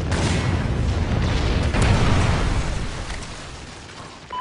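A Trinity rocket strike in Call of Duty: Ghosts lands as a loud deep blast with rolling rumble that slowly fades over a few seconds, with no talk.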